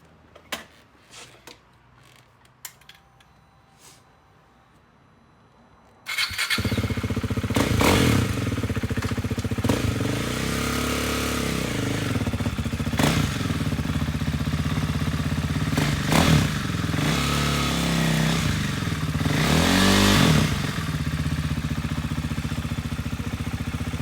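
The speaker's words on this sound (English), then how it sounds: "So let's turn this thing on and see if it'll catch on first gear." A Husqvarna Vitpilen 401 single-cylinder motorcycle engine starts after a few clicks and clunks, then idles and revs loudly and steadily close by, with throttle blips rising and falling.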